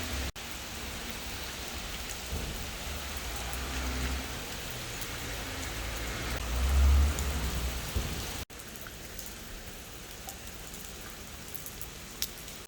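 Steady rain falls during a morning walk in Amsterdam, a constant wash of drops on surfaces all around, with a brief low rumble swelling near the middle and no voices.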